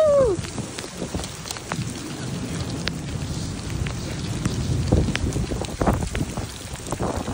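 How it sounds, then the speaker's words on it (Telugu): Heavy rain pours down outdoors in Michigan, a dense, steady roar of drops on surfaces with gusty wind buffeting the microphone and a few sharper drips standing out. "సరే గైస్ ఫుల్ వర్షం పడుతుంది."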